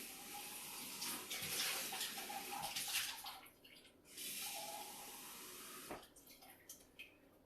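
Water pours from a tap into a pitcher, a steady running stream that pauses and resumes, used for refilling a single boiler espresso machine's water reservoir, heard close with no talk.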